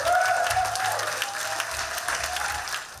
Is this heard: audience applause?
yes